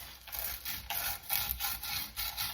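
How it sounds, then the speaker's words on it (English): A palm sander with medium grit sandpaper works the edges of a corroded thermostat housing part on a MerCruiser 350 Magnum 5.7L marine engine, giving a steady close rasping scrub that pulses in repeated strokes with no talking. "We're taking some medium grit sandpaper for a palm sander and just trying to clean up the edges as best we can"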